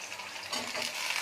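Potatoes dropped into hot oil with curry leaves, a soft, fairly faint sizzle that swells after the first moment, with light stirring noise and no speech.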